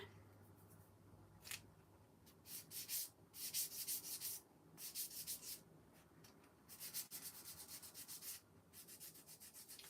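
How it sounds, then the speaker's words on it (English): Sandpaper is rubbed over a wet-finished wooden nativity craft piece in a quiet room. The sound is a series of soft scratchy strokes in uneven bursts, close and fairly faint, with no talking. "you can kind of sand it while it's wet"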